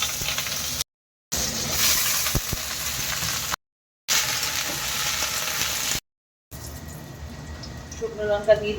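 Black cumin and dried chillies fry in hot oil with a steady, close sizzle, broken by two short cuts of silence. The sizzle goes quieter near the end, with light clattering.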